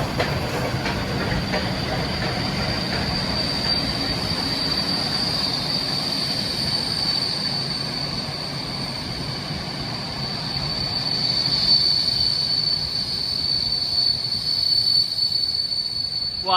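Steam locomotive 46100 rolling past with its train, a loud continuous roar of wagons and rail noise topped by a sustained high wheel squeal that persists through the pass, swelling slightly toward the end.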